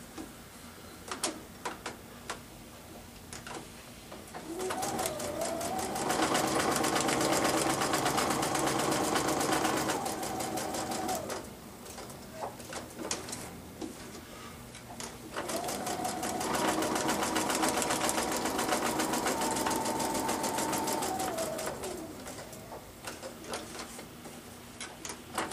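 A sewing machine stitches a seam on a twisted log cabin quilt in two long steady bursts, separated by a pause filled with soft ticking handling noises; the whirring is moderately loud and close.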